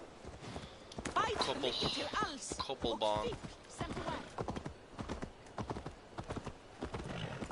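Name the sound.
horse hooves clip-clopping in Assassin's Creed Valhalla video game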